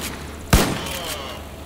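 A single sharp, loud gunshot from a weapon in a video game, a sudden crack with a short ringing tail that fades over a second, alone over low background noise.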